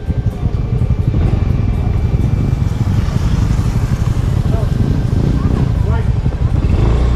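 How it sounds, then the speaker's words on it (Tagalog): Motorcycles pass close by during a roadside celebration on a mountain trip, their engines rumbling and revving steadily under people talking nearby. "Ay, itong mga motor na to."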